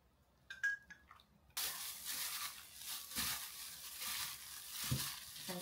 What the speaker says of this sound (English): I'm cooking a pancake. Korean style pancake.